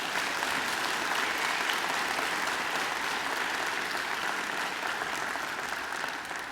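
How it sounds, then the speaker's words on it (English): A graduation ceremony audience gives a singer named Angela a full, even round of applause. The dense clapping stays steady throughout and eases slightly at the end, with no voices over it. "I think she deserves another great round of applause."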